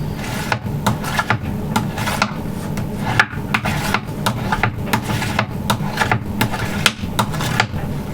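A steel card scraper is sharpened by hand on a woodworking bench, giving repeated rhythmic rasping strokes, each a short scraping burst in a steady back-and-forth pattern, loud and close.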